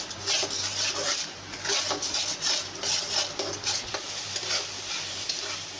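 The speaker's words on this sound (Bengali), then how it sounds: "দিয়ে মশলাটা কিন্তু খুব ভালো করে কষিয়ে নেব।" A spice masala, salted, is stir-fried in a pan, giving a steady close sizzle broken by repeated scraping strokes of a spoon along the pan, with no talking.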